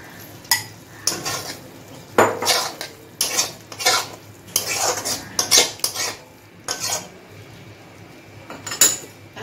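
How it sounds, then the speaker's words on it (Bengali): Fried potatoes tipped into a pan of softened tomato, with metal utensils clinking and scraping against the cookware in repeated sharp bursts, close and clear, with no talk. "এখন আমি ভেজে রাখা আলুটা দিয়ে দিচ্ছি।"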